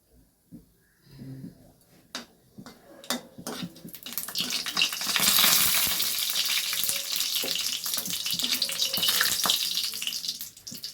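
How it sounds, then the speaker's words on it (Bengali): Dried red chillies frying in oil: a few soft stirring knocks at first, then the sizzle swells into loud, crackling, sputtering bursts that stay strong and dense to the end, close up with no talk. "শুকনো লঙ্কাগুলোকে আমি ভালো করে আগে ভেজে তুলে নেব।"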